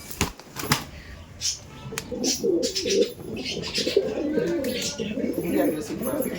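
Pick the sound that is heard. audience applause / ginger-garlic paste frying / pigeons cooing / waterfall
pigeons cooing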